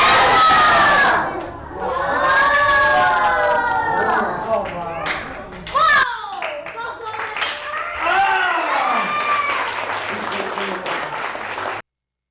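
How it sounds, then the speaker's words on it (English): A large live crowd yells in unison, several loud rising group shouts with cheering and some clapping mixed in, ending abruptly in silence. "Everybody yells juggle."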